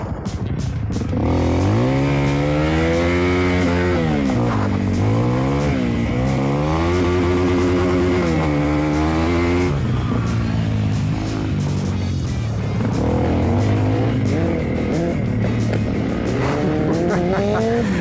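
A Honda CRF300L motorcycle revs and rides on rocky ground, its engine note climbing and falling through repeated throttle blips and gear changes. The engine sounds loud and close and runs steadily throughout.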